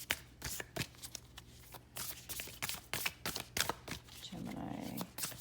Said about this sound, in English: let me pull another card for you.